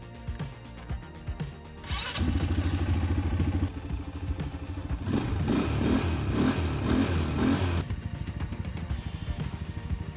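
A small, budget ATV engine starts up and runs nearby with a buzzing, rattling drone, revving up in the middle before settling back down.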